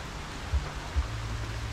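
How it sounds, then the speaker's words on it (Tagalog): Heavy rain falling outdoors during a storm, a constant wash of noise with a low rumble and a couple of soft thuds, no one speaking. "silong lang tayo dito kasi lakas ng ulan"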